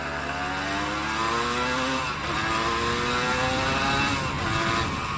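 Honda CRM 250 AR two-stroke motorcycle ridden on the road, its engine droning loud and close with rising, falling pitch as the revs climb through the power band, a brief dip near the middle before pulling again.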